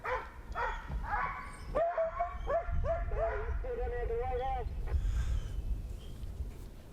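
Hunting dogs on a deer hunt bark, yip and bay in a quick run of excited calls that rise into a sustained wavering howl, then fade out.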